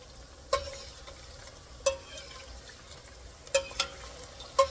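Donut holes fry in hot oil with a soft continuous sizzle, punctuated by a few sharp clinks and scrapes as they are stirred and moved around.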